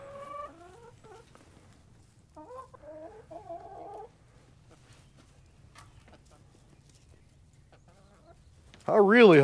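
Close hens cluck and warble in short bursts with quiet gaps between them, ending with a loud, drawn-out squawk.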